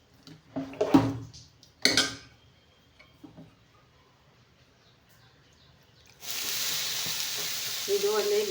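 Dosa batter on a hot pan, with a few sharp splashes and clatters early, then a loud continuous sizzle bursting up as water is sprinkled on, no talking.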